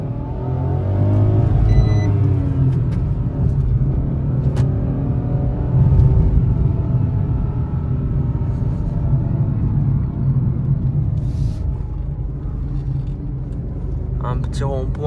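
A car drives with a steady low rumble and engine hum from inside the cabin while someone talks over it, with a few faint clicks and short beeps along the way.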